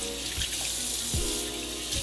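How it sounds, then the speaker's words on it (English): Tap water runs into a HidrateSpark smart water bottle, a steady hiss of the faucet stream with a few low gulping splashes as the bottle fills, close and continuous. "You just fill this up with water."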